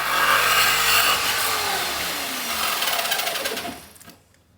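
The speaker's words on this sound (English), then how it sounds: "I find it easier to use a jigsaw without the foot when I'm cutting metal panels" A jigsaw with its foot removed cuts through a metal side panel on a Mercedes Sprinter camper van, a loud, steady buzzing rasp with a gliding pitch that runs for about four seconds, then cuts out abruptly into near silence.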